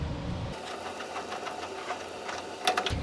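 A rivet nut installation tool sets a rivet nut while fitting roll cage pads to a 1960-66 GMC/C10 truck: a steady mechanical pumping whir runs for a few seconds, ending in a sharper clack near the close.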